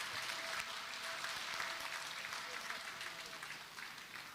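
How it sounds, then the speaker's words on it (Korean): An audience applauds a stage performance at a church event, a steady wash of clapping that fills the room and slowly tapers off. "멋진 무대 해주신 7교구 분들에게 큰 박수 부탁드립니다."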